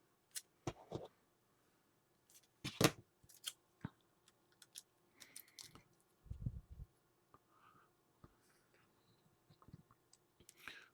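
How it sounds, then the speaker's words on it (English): A piece of tape is cut and pressed onto an Icom IC-2800 radio during a modification: a few sharp snips and clicks, then soft rustling and tapping, close and quiet, with long near-silent gaps. "what I'll do is just put a piece of tape on there"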